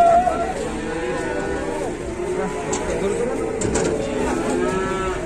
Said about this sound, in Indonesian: Dari belakang ada sapi galak,